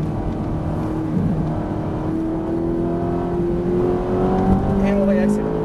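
A Ferrari F458 on a race track at Le Luc accelerates hard, its engine note climbing steadily through the revs from inside the cabin, loud and continuous, with people talking over it.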